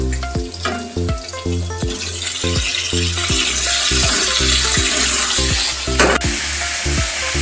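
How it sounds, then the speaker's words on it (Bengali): Cauliflower florets are tipped into a pan of frying potatoes, setting off a loud, continuous close sizzle punctuated by regular scraping and clanking of a stirring spoon against the pan. "আলুটা একটু ভাজা ভাজা হয়ে গেছে। এবার আমি এতেই ফুলকপিগুলো দিয়ে দেবো"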